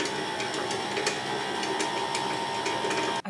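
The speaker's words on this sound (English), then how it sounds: "I need to sew this as close to the edge as I can." A sewing machine stitches steadily close to the edge of fabric for a large hand-shaped pillow, a continuous close mechanical whir with faint rhythmic ticks, briefly cutting out at the end.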